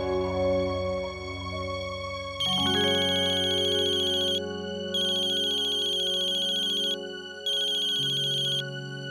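An electronic phone ringtone plays a repeating melodic tune with bright pulsing tones, steady and clear with no voices.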